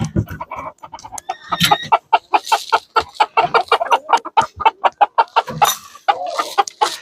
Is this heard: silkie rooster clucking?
yes